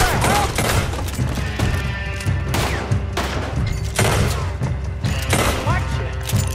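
Gunfire in Red Dead Redemption 2 during a chaotic fight, with repeated loud, dense shots and booms overlapping in a continuous barrage, close and under shouting voices.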